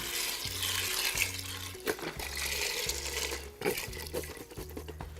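Chicken broth pours from a carton into a pot on the stove, splashing and sloshing in bursts over a repeating background tune.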